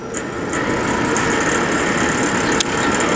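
A CNC lathe spindle runs steadily up toward 1000 RPM, giving a continuous loud machine whir with a high tonal whine on top and a brief sharp tick near the end, with no voices.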